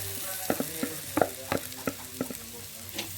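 Okra goes into a pan of sautéed onions and sizzles softly while being stirred, with a series of sharp scraping and clinking stirring strokes punctuating the frying hiss.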